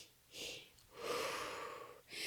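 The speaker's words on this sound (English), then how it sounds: "you're going to breathe in on the he's and then breathe out on the who's" Labor breathing exercise with a patterned ratio of short in-breaths to one out-breath, heard as close, breathy bursts of air and a longer sustained exhale, with no speech.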